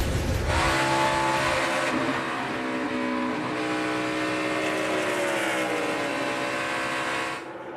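NASCAR stock cars race at Indianapolis in 2014, a loud continuous engine roar rising and falling in pitch as the V8 pack sweeps past, steady and close with no talk over it.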